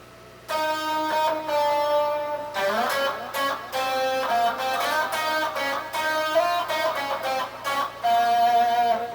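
A 1960s-style electric guitar solo lick, played cleanly as a run of distinct single notes and short phrases with sustained tones, heard alone and up close.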